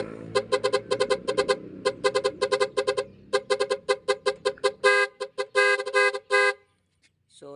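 Musical car horn on selector setting 8, a rapid series of loud, bright tooting notes in a quick tune, then longer sustained blasts before falling silent.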